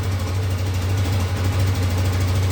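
A brand-new 2022 Bashan Brozz 250 engine idling just after its first start following assembly, a steady low rumbling drone with a faint knocking pulse, close and continuous.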